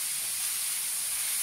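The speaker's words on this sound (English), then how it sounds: "the sizzle's gone down a little bit now." Steady, bright sizzling hiss fills the whole moment, constant and fairly loud, like chicken frying in a hot pan.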